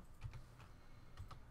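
A mechanical keyboard gives faint clacks from typing, a few quick bursts of two or three keystrokes each with short gaps between them. The sound is quiet, as if from across a room.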